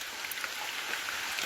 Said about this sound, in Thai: ฝนตกเปียกหมดแล้วเนี่ย ฝนกำลังตกตอนนี้พี่น้อง